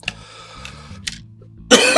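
A man with a cold coughs, a few short harsh bursts early on and then a louder, sustained rasping cough at the end, close to the microphone with no talk.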